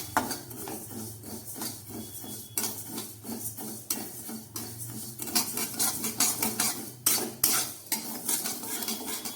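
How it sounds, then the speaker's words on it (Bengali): Moong dal is lightly dry-roasted in a wok, stirred steadily with a metal spatula. Rhythmic scraping and rattling of the lentils against the pan repeats up close, with a faint sizzle beneath and no talking. "আমি ওই কড়ার মধ্যে মুগের ডালটাকে ভেজে নিচ্ছি একদম হালকা করে ভাজবো"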